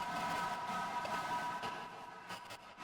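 Faint, hissing static with a smeared, processed texture and some tonal ringing drifts along quietly, flickering slightly in level.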